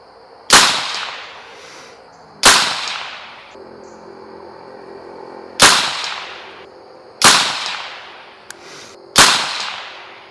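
A Bear Creek BC-202 .22WMR 10-22 style magnum rifle fires five sharp, loud shots at uneven intervals, each crack followed by a short decaying ring, with quiet pauses between.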